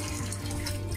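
Tap water running through a hose into a twin tub semi-automatic washing machine, a steady close splashing gush with a low hollow resonance, continuous and alone.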